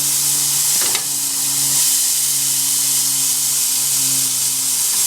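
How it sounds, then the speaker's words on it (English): Chickpeas frying in hot olive oil in a skillet over a camp stove, giving a steady, loud broadband sizzle with constant hiss throughout and a low hum underneath. "Oh yeah, the sizzle."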